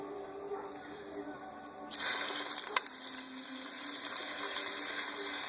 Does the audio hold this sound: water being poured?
yes